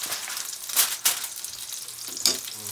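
Venison burgers fry in a pan with a steady close sizzle, broken by a few sharper spits and crackles, with no one talking.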